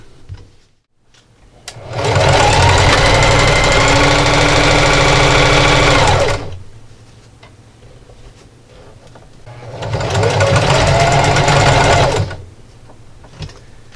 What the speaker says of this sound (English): I'll sew all the way down to my pin and stop and backstitch.